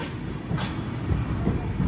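Karwar Express with LHB coaches running along the track, a steady close rumble of wheels and carriages with faint rhythmic clatter, continuous and fairly loud throughout.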